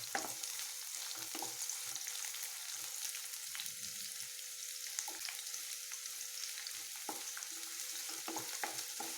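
Finely chopped large onion frying in four or five spoons of cooking oil in a wok, a steady close sizzle broken by occasional stirring clicks, with no talk.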